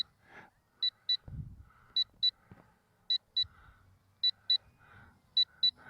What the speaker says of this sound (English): That is the telemetry warning. It gives you about a 2-minute warning when the battery gets low.